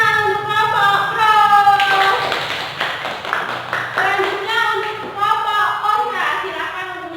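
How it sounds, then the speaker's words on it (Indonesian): A classroom of students clapping for a debate group in a short burst of applause that swells and then thins, with people talking over and around the claps. "beri tepuk tangan untuk kelompok pro"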